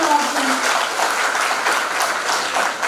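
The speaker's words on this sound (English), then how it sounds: "Let's give her a big round of applause." Audience at a school investiture ceremony applauding the chief guest, a loud sustained spread of many hands clapping with a brief voice at the start.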